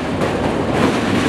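A train rumbles past on an elevated track over a Chicago river, a steady dense roar with a faint rattling texture, close and loud throughout.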